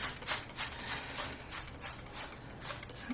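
A hand spray bottle misting water onto a palette of watercolor paints, several quick hissing bursts in an irregular rhythm, close and fairly quiet.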